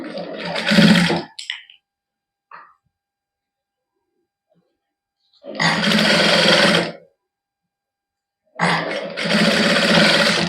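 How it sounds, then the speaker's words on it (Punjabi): A sewing machine stitches a warm knit T-shirt in three loud, close bursts of rapid whirring, separated by long quiet pauses with a faint click between runs. "ਕੱਪੜੇ ਨੂੰ ਮੋੜ ਕੇ ਇੱਕ ਵਾਰੀ ਕੱਚੀ ਸਿਲਾਈ ਲਾ ਲੈਣੀ ਹੈ"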